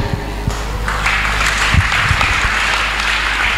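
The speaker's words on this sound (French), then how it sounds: "That clap is pretending." Audience clapping at a church sermon, a dense, loud burst of many hands that swells after the first second, with a few low thuds and some crowd voices mixed in.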